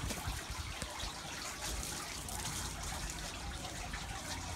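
Water pours or gushes steadily during boat lettering and paint removal work, a loud continuous splashing flow filling the whole moment without pause.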